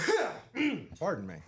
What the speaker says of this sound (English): That was a clearing of the throat.